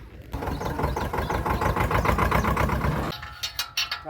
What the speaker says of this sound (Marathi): आमचा ट्रॅक्टर पण येतोय